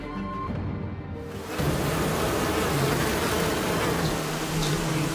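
A film scene of bees swarming and stinging: a dense, loud, continuous buzzing drone surges in after a brief opening and fills the scene without pause, with no speech.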